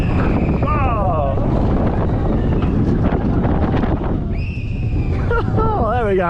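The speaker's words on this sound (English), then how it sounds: "That was a great family coaster." A family roller coaster at Hunderfossen adventure park in Norway rumbles loudly along its track with heavy wind rush, while riders' voices and squeals rise over the noise near the start and end.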